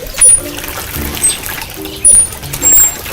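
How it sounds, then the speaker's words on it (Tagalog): Water is fetched and poured in a few short splashing bursts, fairly close and separated by brief quiet gaps, with faint voices in the background. "Ako na ang mag-iigib ng tubig."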